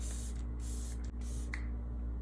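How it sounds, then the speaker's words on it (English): An Hourglass Veil setting spray lets out two or three close, airy hisses of fine mist, each lasting a fraction of a second, over a steady low background hum with no talking. "I'm just gonna finish it off with my Hourglass Veil setting spray"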